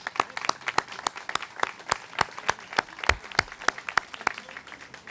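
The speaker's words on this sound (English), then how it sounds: "Could we give them a round of applause?" Applause from a modest audience at a Louisville community event on restoring shotgun homes: distinct, sharp individual claps in an uneven rhythm, moderately close and heard on their own.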